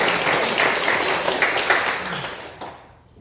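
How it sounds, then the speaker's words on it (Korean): A church congregation at Sunday worship applauds to welcome newcomers: dense, steady clapping from many hands fills the room, then thins out and fades over the last moments. "새로 오신 분들을 여러분 우리 주님 이름으로 따뜻하게 환영의 박수 모읍시다"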